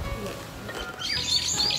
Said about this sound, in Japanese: 鳥も鳴いてて